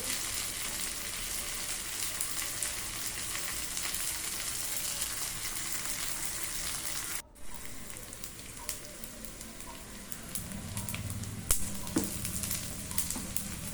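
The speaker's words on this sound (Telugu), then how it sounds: "ఇప్పుడు మనకి కలర్ చేంజ్ అయ్యే వరకు కూడా ముక్కలు వేయించుకోండి" Okra pieces frying in an oiled pan, a continuous soft hiss and crackle that drops out briefly midway and then resumes with a few faint clinks, heard close and alone.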